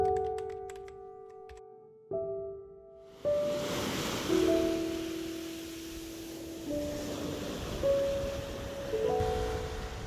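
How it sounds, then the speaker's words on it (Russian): Sea surf on the beach at Ölüdeniz, Turkey, early in the morning: a steady broadband wash of waves runs throughout at moderate level, after a quieter start with sustained tones, with no talking. "свежий воздух, шум моря, вы слышите, да?"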